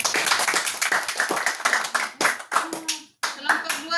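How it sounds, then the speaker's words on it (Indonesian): A school class applauds a student group: a brisk, fairly close burst of many hands clapping in an uneven rhythm, with brief pauses and a few voices mixed in. "kita berikan aplaus untuk kelompok 2"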